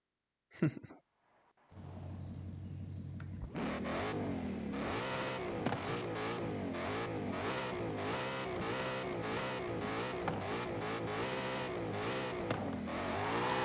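Muscle car engines in a Forza Horizon 5 race: a brief starter blip, then a loud sustained roar of revving engines climbing and dropping through gear shifts, continuous and close with no talk.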